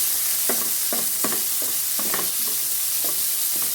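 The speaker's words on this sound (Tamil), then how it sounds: "இந்த வெங்காயத்தை இதோட சேர்த்துக்கொள்ளுவோம். சேர்த்துட்டு நல்லா வதக்கி விடுவோம்" Onions and curry leaves sautéing in a pan with fish being prepared, a loud constant sizzle with regular scraping stirs about every half second, close and alone.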